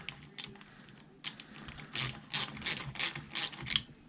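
A ratchet clicks in quick bursts while tightening intake manifold bolts on a Mini Cooper R50, close and crisp, with short pauses between strokes and no talking.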